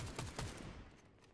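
Two or three quick gunshot bursts from a video game during ranked matches, fairly faint and decaying quickly.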